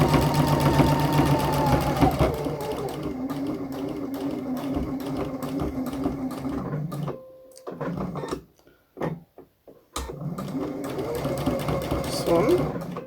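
A sewing machine stitches a V-neck seam down to a center point in a steady mechanical whir, pausing partway through with brief bursts and gaps before running again, while someone talks over the machine.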